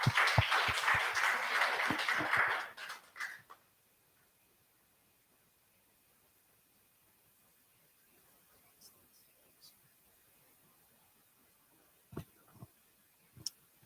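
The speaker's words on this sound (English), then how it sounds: "Have a huge round of applause again." Audience applause at an AI in healthcare event, a short burst of clapping at the start that quickly dies away into near silence, followed later by a few faint isolated clicks.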